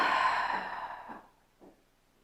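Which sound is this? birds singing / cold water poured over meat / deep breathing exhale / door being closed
deep breathing exhale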